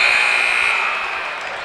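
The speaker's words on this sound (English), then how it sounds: "I think they can make the basket move with their noise here" A men's college basketball crowd at Augusta vs. UNC Pembroke roars loudly and steadily, with a sustained buzzer-like tone riding over the noise before it eases slightly.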